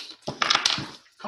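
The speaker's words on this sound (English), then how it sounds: "I'm gonna let my dog out of the room because he is whining." A pet dog whines indoors, a short close burst of high, strained whimpering cries with a brief pause before a final whine.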